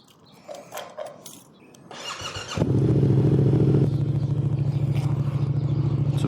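A motorcycle engine catches and settles into a loud, steady close-up idle-to-running drone after a few faint knocks and a brief rising whir, holding strong to the end with no talking.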